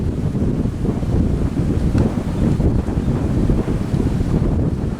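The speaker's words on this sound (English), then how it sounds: "Very windy." Strong wind buffeting an outdoor microphone on a farm during muck spreading, a loud, continuous low rumble that swells and eases throughout.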